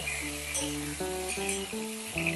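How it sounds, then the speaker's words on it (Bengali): Pointed gourd pieces frying in hot mustard oil give a steady, close sizzle that runs through the whole clip beneath a soft tonal layer. No one speaks. "পটলগুলো ভালোভাবে তেলে ভেজে নেব"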